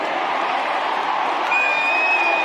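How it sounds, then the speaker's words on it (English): Richmond supporters roar at an AFL football match, a broad sustained crowd wash of cheering and applause throughout, with a faint whistle tone rising over it near the end. "We'll let the Richmond crowd tell the story if Castagna can kick it from 45."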